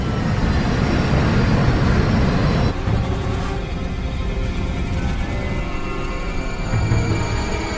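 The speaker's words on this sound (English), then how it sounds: "Captain Lutz begins slowing the jet and puts it into a steep descent." Steady roar of a jet airliner slowing and descending steeply on approach, a loud broadband rumble that drops slightly in intensity partway through and then holds constant.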